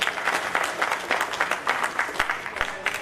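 A crowd at an Indian awards ceremony claps in loud, uneven bursts, with individual sharp claps standing out from the rippling applause over a few seconds.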